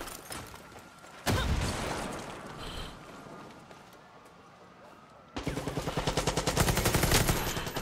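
An SMG in Far Cry 6 PC gameplay: an early sharp burst, then a loud sustained stream of rapid automatic shots near the end, close and punchy, among game ambience.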